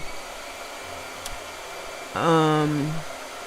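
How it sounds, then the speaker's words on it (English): A handheld blow dryer switches on and runs with a loud, steady whir and a falling motor pitch as it starts, lasting about a second, heard close up after a quiet stretch with no talking. "it's gonna be a lot of blow dryer today"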